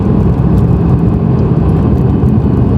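A loud, deep Lexus car engine roar under load, steady and rumbling with heavy low-end, continuous throughout with no voices.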